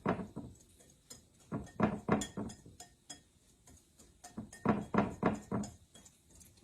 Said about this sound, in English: Now, I'm going to whisk this just a little bit.